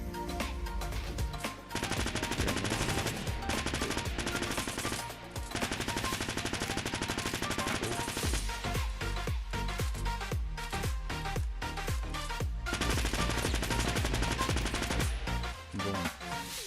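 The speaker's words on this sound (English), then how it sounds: "I have a quick clip of both of these SMGs being used" Rapid SMG gunfire in Fortnite, fired in dense sustained bursts over loud game music and effects, with brief pauses between volleys.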